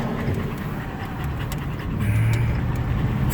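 A dog pants close by inside a vehicle on a rough washboard road, quick soft breaths over the steady rumble of the moving car.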